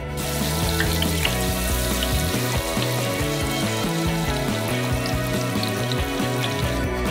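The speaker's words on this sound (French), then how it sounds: "encore un dernier plongeon dans l'huile chaude" A breaded cheese hamburger deep-fries in hot oil, giving a dense continuous bubbling hiss that stays loud and even throughout. Background music with a layered tonal pattern plays under it, and there is no talk.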